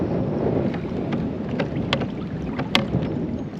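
Wind roars across the microphone on a boat while perch fishing before rain, holding a steady rumbling level. Light knocks and clicks from gear or the hull punctuate it.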